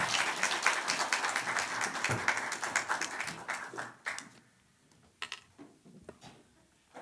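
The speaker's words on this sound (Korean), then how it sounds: "우리 박수로 한번 환영하겠습니다" Congregation applause welcoming a speaker at a Sunday church service: dense clapping from a crowd that tapers off after about four seconds, leaving a few scattered final claps and quiet room noise.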